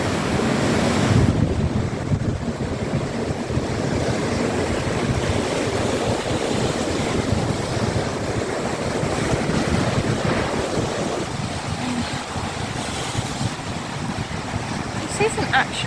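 Gusty wind roars across the microphone on cliffs above the North Sea coast, with surf washing steadily underneath and no lull across the whole stretch.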